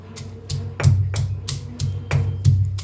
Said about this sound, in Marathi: आता कुटून घेऊया शेंगदाण्याला।